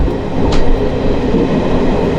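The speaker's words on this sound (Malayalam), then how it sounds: "അത്യാവശ്യം സ്പീഡിലാട്ടോ ട്രെയിൻ പോകുന്നത്" The Palaruvi Express sleeper train runs at speed, a loud, close, continuous roar of wheels and carriage rumble with no voices.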